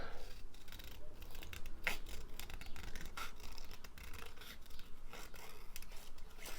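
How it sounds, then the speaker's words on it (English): Scissors snip paper for a grungy journal in a series of quiet, close cuts and rustles, with no talk. "now I'm going to cut inside those handles"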